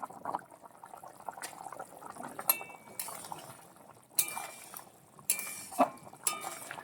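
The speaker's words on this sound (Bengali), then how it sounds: "আমাদের দেশি স্টাইলে ডিম কারি রান্না কমপ্লিট হয়ে গেছে, দেখতে পাচ্ছ ফুটছে" Homestyle egg curry bubbles in a pot, soft simmering gurgles broken by a few sharper pops and light clinks, fairly quiet and close with no voices.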